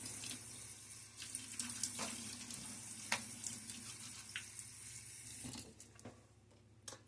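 A bathroom tap runs steadily into a sink during a wet shave, a constant close splash broken by occasional clinks and wetter spatters, easing off near the end.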